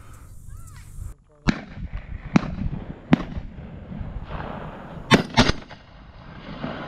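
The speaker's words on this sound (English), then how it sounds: "Hudson, shoot it." Shotgun blasts ring out in a Georgia dove field on the 2023 season opener: several sharp, loud reports spaced a second or so apart, including a quick close double, with outdoor background noise between shots.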